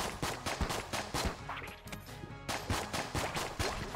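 Rapid gunfire from the Enter the Gungeon video game, dense bursts of loud repeated shots in an uneven rhythm with a brief lull midway, heard without talking.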